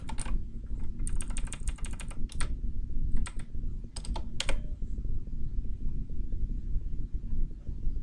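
Typing code for a Unity FPS controller on a computer keyboard: quick bursts of crisp keystrokes with short pauses between them, over a steady low background hum.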